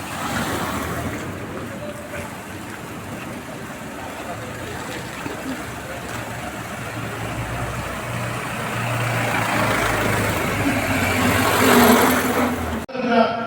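A vehicle engine approaches along a road during a human-chain protest against a stone quarry in Chathannoor, a low rumble building steadily louder over several seconds before cutting off abruptly.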